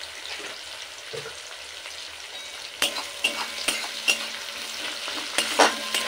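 Onions frying in a pan for a Bengali potato shrimp kosha, a soft steady sizzle with sharper stirring clicks and scrapes coming more often in the second half, close and alone.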